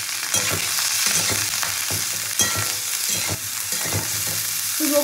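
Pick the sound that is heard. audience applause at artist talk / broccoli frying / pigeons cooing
broccoli frying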